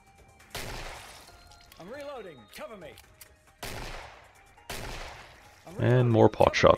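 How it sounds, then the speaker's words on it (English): Crossbow and hand cannon fire in a wave-based co-op shooter game: several sharp, loud blasts with long decaying tails at irregular intervals, ending in a burst of dense, crackling shots, mixed with short voiced game sounds. "it looks like he's using the good old combo of crossbow and hand cannon"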